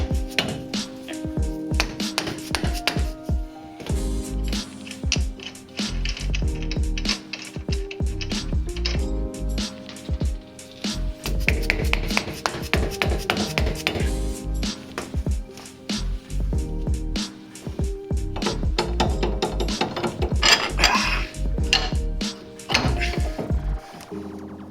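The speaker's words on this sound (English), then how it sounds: "just take your axle nut, thread it back on a little bit, and beat it with a rubber mallet" A rubber mallet beating an axle nut threaded onto a Honda Civic axle in a garage, with a rapid run of sharp, close knocks repeated in bursts over a steady background hum.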